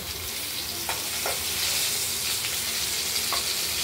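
Cauliflower frying in a pan, a continuous loud sizzle with a few scraping stirs of the spoon, close and without voices.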